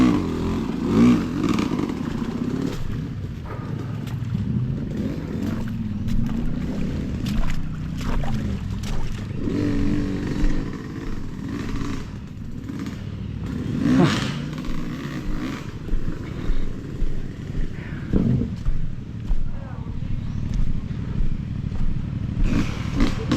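Motorcycle riding on the way to a blue lagoon river spot, engine droning and revving unevenly with rumbling swells and clattering bumps, fairly close, continuing for a long stretch without talk.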